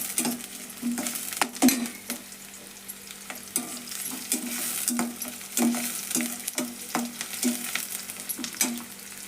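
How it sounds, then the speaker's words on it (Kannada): Chopped onions fry in oil with a steady background sizzle, while a spoon scrapes and knocks against the pan in a regular rhythm, sounding close and moderately loud. "ನೋಡ್ರಿ, ಇದು ಎಣ್ಣೆ ಒಳಗೆ ಫ್ರೈ ಆಗಾಕತ್ತೈತಿ"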